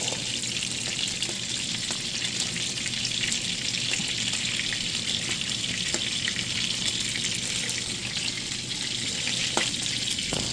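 Keto beef steak frying in oil in a pan, a steady close crackling sizzle with dense hiss running evenly throughout, a few brief pops over the top.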